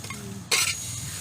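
Chunks of red shallot dropped into hot oil, a sudden loud sizzling burst that flares for a moment and settles into a soft steady hiss.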